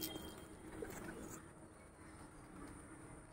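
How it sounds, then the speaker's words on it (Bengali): Pigeons at a home loft during feeding time give soft low coos against a dense, noisy outdoor background, faint and partly buried, with no clear speech. "আহ আহ আহ আহ দেখো পায়রা সব নেমে পড়বে।"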